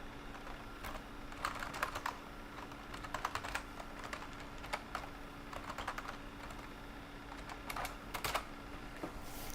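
Fingers type on a computer keyboard in quick, uneven bursts of clicks and taps. The clicks sit close and fairly quiet over a faint steady hum, with short pauses between flurries.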